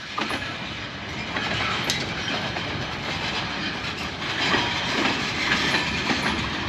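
A train rolls along unfenced railway lines in New Glasgow, Nova Scotia, passing close by with a steady loud rumble and rhythmic clickety-clack of wheels for the whole stretch, with no talking.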